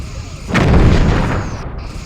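Phaser arrays firing at an asteroid in the game Star Trek Bridge Commander: a single heavy, booming discharge that swells quickly and rumbles for over a second before fading, loud and close.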